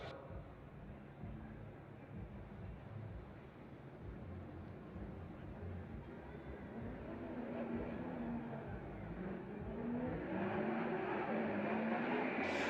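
Drift cars at a Formula Drift event in Long Beach, a 2JZ-powered Nissan Silvia and a supercharged V8, roar continuously, the engine drone building louder toward the end with rising revs.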